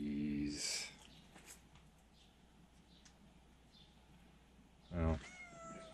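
A cat meows loudly up close, then again a few seconds later, with quiet background noise in between.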